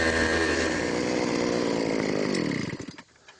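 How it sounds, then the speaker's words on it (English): A power auger digging fence post holes roars loud and steady at close range. The engine drones without a break, then winds down and cuts out near the end. "I'm going to use a power auger."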